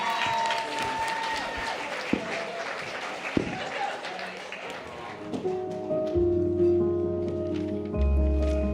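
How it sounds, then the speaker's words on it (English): Crowd applause at a First Nations media awards ceremony, with scattered claps, a couple of sharp taps, then a steady electronic tone and music-like hum rising toward the end. "One more big round of applause for 33 Creative."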